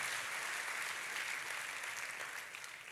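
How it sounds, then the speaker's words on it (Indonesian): A church congregation claps and cheers in dense, sustained applause during a sermon, filling the space before gradually tapering off. "Kita kasih tepuk tangannya pula yang paling meriah buat Tuhan."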